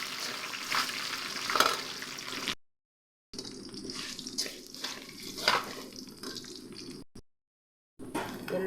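Four cut dried red chillies fry in hot oil along with browning garlic, a close steady sizzle with crackling pops, broken by two short silent gaps.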